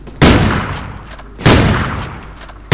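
Three loud sniper rifle quickscope shots in Call of Duty: Ghosts, each a sharp blast with a decaying tail, spaced about a second and a quarter apart with no talking.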